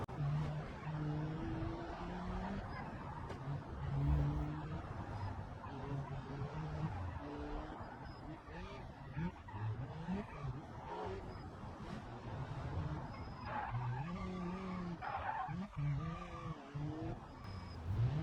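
An old Pessima car with fading brakes drives in BeamNG.drive, its engine droning steadily while tires repeatedly squeal and skid through corners, loud and continuous with no one talking.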